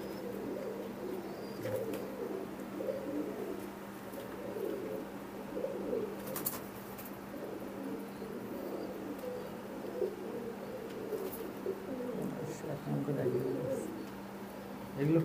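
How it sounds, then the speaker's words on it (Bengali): Imported teddy pigeons cooing in a cluster, a continuous low burbling murmur of many birds close by, with occasional faint voices and handling noises. "আমি ছেড়ে আপনাদেরকে দেখাচ্ছি কবুতরগুলো কেমন।"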